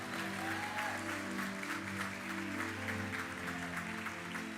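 A church congregation claps during a Portuguese-language sermon, a continuous dense applause held at moderate level for several seconds over a low droning musical tone, with no one speaking.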